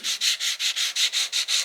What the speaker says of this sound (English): now we're gonna go through with the sandpaper and just get the lines